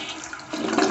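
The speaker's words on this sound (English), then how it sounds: "I'm gonna flush it" Toilet flushing just after being unclogged with a toilet auger: a close rushing swirl of water that swells louder partway through and keeps draining steadily to the end.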